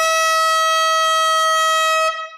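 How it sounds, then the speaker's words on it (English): A single loud, sustained air horn blast rings out steadily for about two seconds during a live vinyl record sale, then cuts off abruptly, with no talk over it. "Oh, the beautiful sound of air horn."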